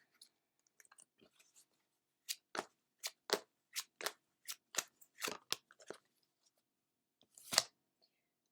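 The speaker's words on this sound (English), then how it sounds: "Next, we'll pull a card from the Mystic Monday Tarot." Cards drawn from a Mystic Monday Tarot deck give a quick run of about a dozen crisp snaps and slides, fairly close and evenly spaced, followed by a pause and one louder swish near the end. No one speaks.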